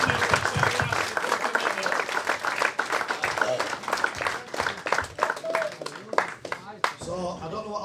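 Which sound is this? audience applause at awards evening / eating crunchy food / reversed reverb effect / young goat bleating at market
audience applause at awards evening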